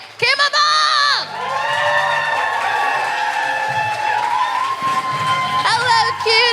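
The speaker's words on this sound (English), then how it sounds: "please clap your hands, whoop and cheer, and welcome your host to the stage" An audience claps, whoops and cheers for a host stepping onto the stage, loud bursts of shouting and whistle-like whoops rising over steady clapping.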